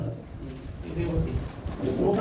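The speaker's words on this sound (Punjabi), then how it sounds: "ਇਹ ਲਾਲ ਚੀਨਾ ਕਬੂਤਰ ਹੈ" Soft, low coos of red Chinese pigeons murmur close by amid faint background noise, with a few gentle repeated calls.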